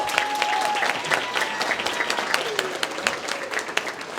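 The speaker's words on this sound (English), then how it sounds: "Can I please get a round of applause for Mr." Wedding guests applaud the newly married couple at the reception, a lively crowd of individual claps with a few whoops and a sustained tone running underneath.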